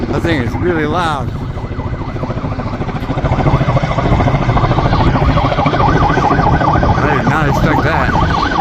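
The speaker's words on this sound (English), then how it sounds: "I'm hearing a bunch of sirens." Several emergency sirens wail and rise and fall together near Taehwagang National Garden, loud and steady through the whole stretch, with a brief spoken comment at the start.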